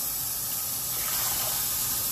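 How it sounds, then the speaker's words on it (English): Cold tap water runs steadily onto a hot bowl in a kitchen sink, giving a continuous close, hissing gush with no pauses and no voices. "You want some cold water over this fucking bowl."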